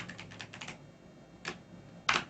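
Keystrokes on a computer keyboard tapping out a short word in a few quick bursts, close and clear, with a louder final clack and a faint room hiss between.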